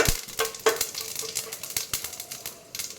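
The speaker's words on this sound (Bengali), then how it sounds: "কিছুটা তেল দিয়ে দিলাম, আর একটু জিরে ফোড়ন দিচ্ছি, একটা শুকনো লঙ্কা দিয়ে দিলাম ফোড়নে" Cumin seeds and a dried red chili tempering in hot oil, a close, continuous crackling sizzle with quick pops and a few light utensil clicks.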